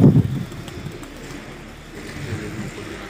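Pigeons coo softly and low at a pigeon-flying competition in Rawalpindi, with a burst of fluttering near the start and a faint outdoor hum behind them. No one speaks.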